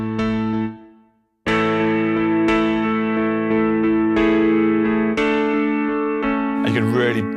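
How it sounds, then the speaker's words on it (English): A Yamaha CP88 stage piano plays sustained chords through a drive distortion insert effect, giving a thick, gritty, saturated tone across several loud, close chord changes with a brief gap near the start. "So I can, for example, add some drive onto that."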